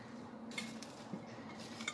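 Utensils clink lightly against a bowl while a salad dressed with lemon juice is tossed; the scraping and tapping is soft and intermittent, with no talk.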